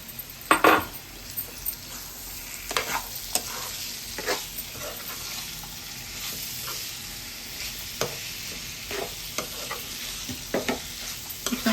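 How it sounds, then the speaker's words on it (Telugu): Fried paneer pieces are stirred into masala in a pan for paneer curry, with a steady sizzle beneath repeated spoon scrapes and knocks against the metal, close and moderately loud throughout. "ఇందులో నేను వేయించి పెట్టుకున్న పన్నీర్ ముక్కలు వేసుకుంటున్నానండి."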